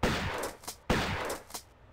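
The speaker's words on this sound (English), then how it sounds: "Oh, actually I can shoot him." Two loud, close gunshots from Lara's pistol in the 1996 video game Tomb Raider 1, each a sharp crack with a short decaying tail, followed by a fainter echoing report, no talking.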